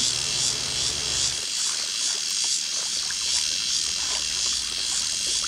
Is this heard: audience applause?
no